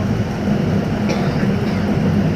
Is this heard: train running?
yes